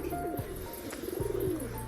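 Several pigeons coo near a coop, with repeated throaty rising and falling calls overlapping at moderate distance against faint background noise.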